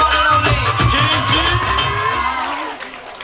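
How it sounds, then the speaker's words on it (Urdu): Audience at a Ghazali Science College event in Dhar cheering and clapping loudly as Director Sports and Culture Malik Shoukat Hayat Khan comes on stage, a dense, sustained crowd roar with shouts and whoops that fades slightly toward the end. "جناب ملک شوکت حیات خان صاحب اسٹیج پہ آ رہے ہیں آپ کی بھرپور تالیوں میں"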